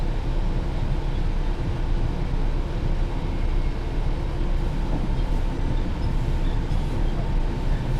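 A train running on the East Coast Mainline toward Peterborough in a Train Sim game gives a steady, dense rumble of wheels and motor, constant in level throughout, with no speech over it.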